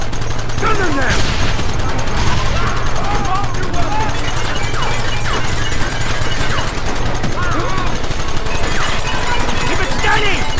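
Machine gun fire in Red Dead Redemption rattles steadily throughout, dense and loud, with voices shouting orders over the battle noise.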